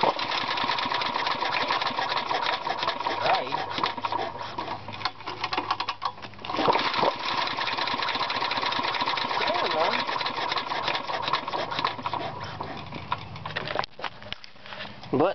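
A Briggs flywheel engine with a clear valve cover runs steadily with no inlet valve spring, a close, continuous mid-pitched chugging and rattling idle with slight uneven knocks throughout.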